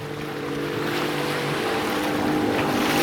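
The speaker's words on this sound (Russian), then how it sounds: "Братик наш на водном мотоцикле гоняет." A jet ski races across open water, its engine a steady droning whine. Wind buffets the microphone and water rushes underneath, all holding at a constant, fairly loud level.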